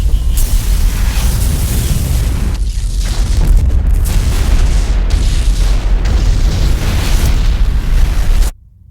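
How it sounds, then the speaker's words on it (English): A loud, sustained explosion roars in a spaceship's engineering area as the sublight drive overloads, a dense boom that rolls on for several seconds before cutting off sharply into near silence. "We have secondary explosives in the engineering area."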